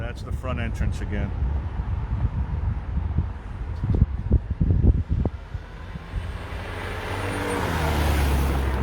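Street traffic in Las Vegas rumbles close by on a windy day, with passing vehicles swelling and fading, a few sharp knocks and a person talking over the noise.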